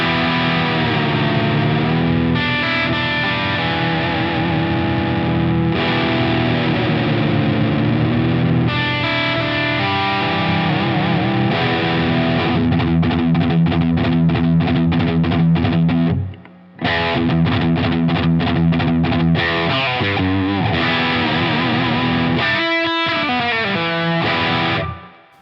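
Electric Jazzmaster guitar with a high-output Curtis Novak pickup, echo switched off, playing loud sustained chords and then fast rhythmic strummed passages, with a short break near two-thirds through and a sharp cut at the end.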